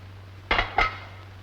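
Two quick clinks of dishes being washed, about a quarter second apart, fairly close and clear over a low steady hum, with no voices.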